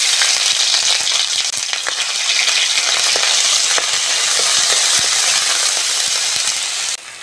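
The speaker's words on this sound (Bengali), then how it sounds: "এবার ওই তেলের মধ্যে চপের পুরটা রেডি করে নেব। প্রথমেই আদা রসুন বাটা দিয়ে দেব।" Ginger garlic paste frying in hot oil gives a loud, continuous hiss and sizzle with faint scraping ticks of stirring, steady throughout and cutting off abruptly near the end.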